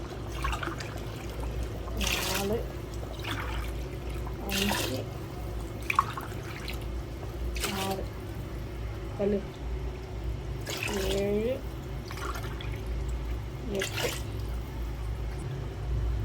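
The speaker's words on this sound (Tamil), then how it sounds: "9 கிளாஸ் தண்ணி ஊற்றிருக்கேன்." Water trickles and pours steadily into a pressure cooker of chicken biryani in the background while a person speaks over it, with short splashy bursts every couple of seconds.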